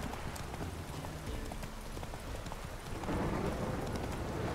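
Roach, the horse in The Witcher 3, trots with steady, close clip-clopping hooves over a dense rumbling game background that swells louder toward the end, with no voices.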